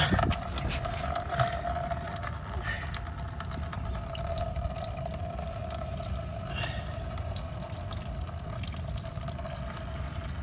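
Coolant drains from a Nissan Frontier radiator in a steady, continuous liquid rush and trickle, fairly loud and unbroken throughout.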